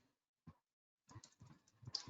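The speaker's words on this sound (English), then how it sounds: "we will be typing" Quiet keystrokes on a computer keyboard: one lone click, a pause, then a rapid run of soft typing clicks, close and clear.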